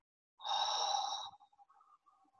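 A single long exhalation out through the mouth during a guided mindfulness breathing exercise, a soft, airy breath lasting under a second, followed by faint trailing breath sounds and quiet.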